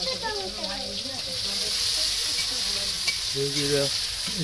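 Onions frying in a pan at a homely picnic cookout, a steady loud sizzle and hiss with stirring, while someone talks over it.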